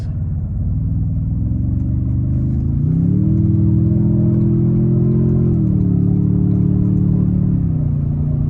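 A 2024 Toyota Tundra TRD Pro in sport mode drones loudly from inside the cabin, its engine note stepping up in pitch as it downshifts and holding a higher hum before easing back down.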